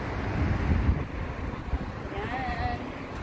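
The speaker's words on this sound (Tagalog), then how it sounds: "Mahangin." Wind gusts outdoors along a road, buffeting the microphone with a rough, fluctuating rush while voices talk in the background.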